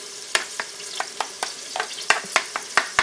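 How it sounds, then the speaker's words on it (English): Two eggs being scrambled in a small frying pan, with a utensil scraping and tapping in a steady irregular rhythm over a soft continuous sizzle, close and fairly quiet. "I'm scrambling these eggs here in my little teeny fry pan"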